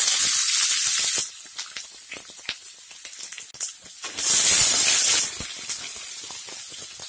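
Chopped onion sizzles in hot oil with mustard seeds and cumin, a loud close hiss that surges at the start and again midway, with softer crackles and spatters in between.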